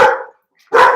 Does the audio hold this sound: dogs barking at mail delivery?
yes